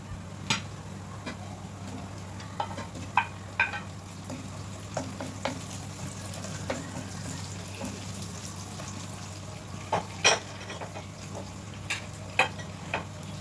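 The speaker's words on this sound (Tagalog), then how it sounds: "pag medyo brown na yung bawang, pwede na nating ilagay yung sibuyas" Onion frying in a pan with browned garlic, a steady close sizzle with scattered louder pops and crackles throughout, no voices.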